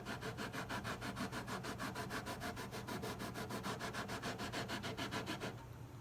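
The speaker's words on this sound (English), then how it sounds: "I'm trying to sand as little as possible" Guitar frets being levelled by hand with sandpaper, a close, steady rhythm of quick back-and-forth rasping strokes that runs continuously and eases off at the end.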